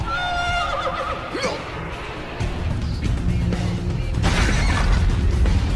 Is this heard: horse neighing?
yes